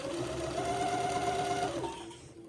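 A sewing machine runs steadily while stitching bias tape onto the leg opening of a child's jumpsuit, holding a constant hum for about two seconds before slowing and dropping away.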